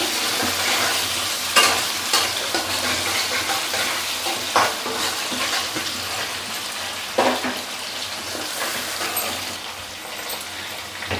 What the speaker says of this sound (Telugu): ఇప్పుడైతే సన్నగా కట్ చేసుకున్న ఒక 5-6 పచ్చిమిరపకాయలు కూడా వేసి వేపుకుందాం